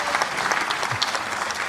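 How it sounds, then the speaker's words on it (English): Brief burst of audience applause at a spiritual gathering, dense and steady with a few sharper individual claps standing out. "a round of applause for my mom"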